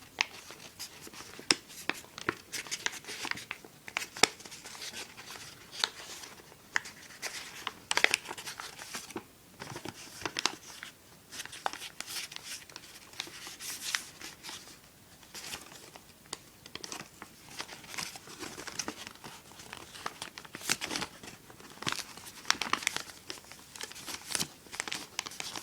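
Paper crinkles and rustles steadily while a sheet is worked into a closed sink fold for a Satoshi Kamiya origami Ancient Dragon, with dense crackling bursts throughout and no talking.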